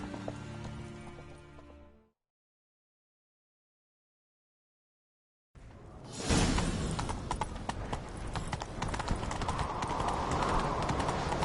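In The Witcher 3: Wild Hunt, rapid galloping horse hoofbeats start after a stretch of silence, loud and rhythmic, preceded by a short musical passage.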